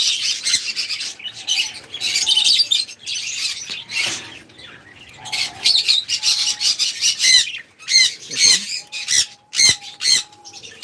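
Birds at a farm aviary squawk and chirp loudly in dense, overlapping bursts, with some wing flapping among the calls and no talk over them.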